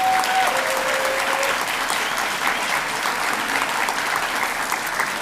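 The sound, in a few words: audience applause at college convocation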